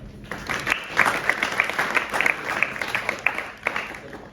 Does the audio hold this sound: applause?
yes